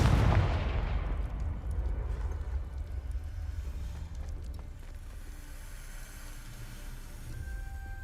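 Confringo spell explosion in the video game Hogwarts Legacy, a loud deep boom at the start decaying into a long rumbling tail with faint crackles and debris.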